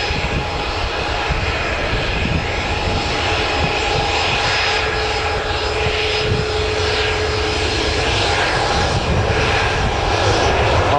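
Airplane engines at full throttle on a takeoff roll at Newcastle Airport, a loud, steady engine roar with a rising whine that holds close for the whole stretch, with no talk over it.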